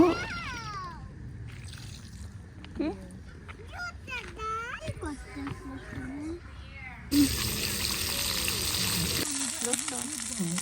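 Fish frying in a pan beside a lake in Finland, a bright sizzling hiss that swells loud in the second half, with a child and adults chattering over it earlier.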